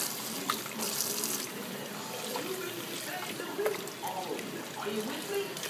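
Water runs and splashes inside a blender at a sink, a steady trickling wash with some light clinks, while a person talks.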